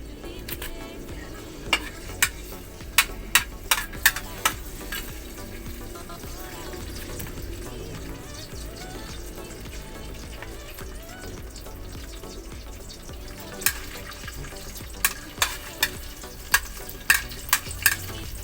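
Garlic frying in a hot wok over a wood fire, giving a steady low sizzle with bursts of sharp metal scrapes and clinks from stirring, clustered near the start and again toward the end.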